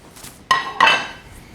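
Walnuts, pepitas and sunflower seeds dry toast in a pan, with two sharp metallic clinks and a brief rattle of seeds against the metal, close and distinct, no talk.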